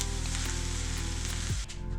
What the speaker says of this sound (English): I will keep frying until the rice looks a bit dry and it starts to smell yummy.